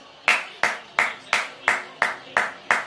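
One person claps slowly and deliberately, eight sharp, evenly spaced hand claps close to the microphone with short decays and quiet between each.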